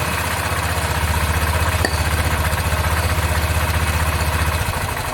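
A Muc-Off motorbike pressure washer on first use, its motor pumping in a steady, loud, rapid low throb that holds throughout and eases slightly near the end, with no speech.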